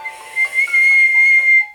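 A person whistles a long, rising and wavering tone meant to imitate a wolf howling at the moon, loud and close, with short breaks before the sustained howl-like note.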